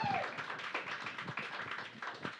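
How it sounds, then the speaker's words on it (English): Audience clapping at a live spoken-word event, a dense patter of hand claps sustained through the whole stretch at moderate loudness, with a brief tone at the start. "Please, everybody, give a massive round of applause to Holly."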